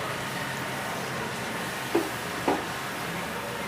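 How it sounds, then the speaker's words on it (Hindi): Spice masala fries in a pan over a low flame with a steady sizzle, broken by two brief stirring knocks close to the pan. "और इसके अंदर थोड़ा सा पानी डालूंगी और अब मसाले को भून लेंगे।"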